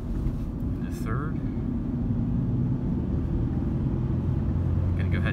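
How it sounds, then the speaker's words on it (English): Engine and road noise from a 2008 Ford Ranger 2WD with a five-speed manual, driving in third gear: a loud, continuous low rumble with steady cabin drone, while someone speaks over it. "I'm going to go ahead and shift up a gear"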